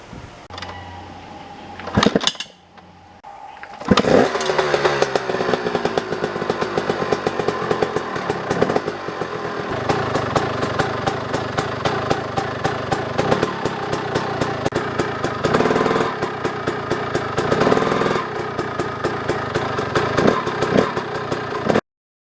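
A 2009 KTM 250 XC two-stroke motorcycle kicks over briefly, then fires and runs with a loud, close, buzzing engine note that keeps going steadily for about twenty seconds.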